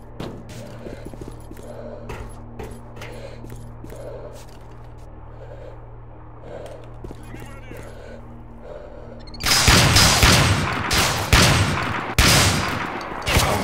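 Shotgun fire in STALKER: Shadow of Chernobyl, quiet movement and footsteps at first, then a sudden stretch of loud, rapid blasts and gunfire in the last four seconds.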